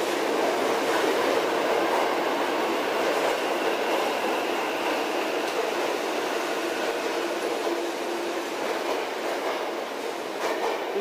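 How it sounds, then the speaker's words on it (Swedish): A Tokyo subway train runs with a steady, loud rumble and rattle of wheels on rails, and a faint squeal of wheels now and then, close by throughout with no talk. "Nu ska vi ta tunnelbanan."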